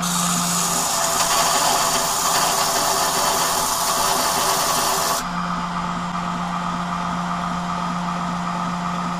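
A knife grinder fitted with a plunge attachment grinds out a blade's two-inch grind line, making a loud, continuous abrasive whine and motor drone that shifts in tone midway, with no voices.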